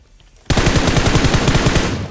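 Sudden automatic gunfire in PUBG Mobile erupts after a half-second of quiet, a rapid, loud, close burst of evenly spaced shots that runs on without pause.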